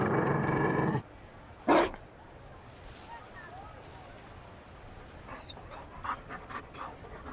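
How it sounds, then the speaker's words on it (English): A Mabari war dog in Dragon Age: Inquisition pants heavily and growls low, with a loud breathy burst at the start and a short sharp snort after, then faint scattered huffs over quiet game ambience. "You found a dog?"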